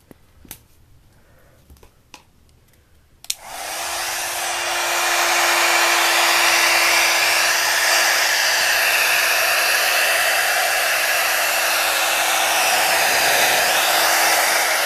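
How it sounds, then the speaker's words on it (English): A heat gun switches on with a click after brief quiet handling noises, then blows hot air as a loud, steady roar with a constant hum underneath for the rest of the time. "Oh, my heat gun is not plugged in."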